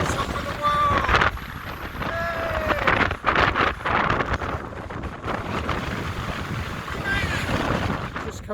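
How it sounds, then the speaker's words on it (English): Strong gale battering the top of King's Tor on Dartmoor, heavy gusting roar buffeting the microphone with surging blasts, while voices shout faintly underneath. "The wind's blowing about 60 miles an hour."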